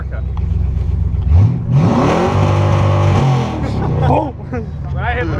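A Dodge truck engine revs up loudly nearby at an outdoor motocross compound, the pitch rising and holding in a strong roar before dropping back, with voices and background noise around it.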